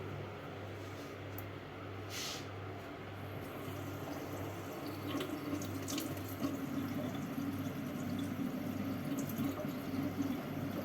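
Tap water runs steadily into a sink while teaspoons are measured for chocolate-coated marshmallow bears, a constant close stream of moderate loudness with no talk.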